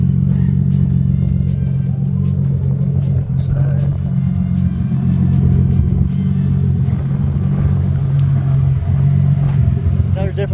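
A car fitted with drag slick tyres rumbles down a canyon road, its deep engine drone steady and loud throughout with road noise, while someone talks over it.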